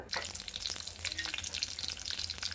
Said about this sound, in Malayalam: ഉണക്കമീൻ വറുക്കുകയാണ്